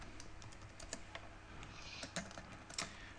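Quick, light clicking of computer keyboard keys as code is typed, close and fairly quiet, in short uneven bursts.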